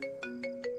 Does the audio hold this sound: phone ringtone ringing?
yes